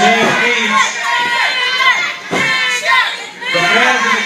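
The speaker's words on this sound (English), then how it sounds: "The fans in the crowd are trying to little Digger James back in the match." Wrestling fans in a match crowd shouting and cheering in excited bursts, loud and close, with chanting voices and a few thuds from the ring.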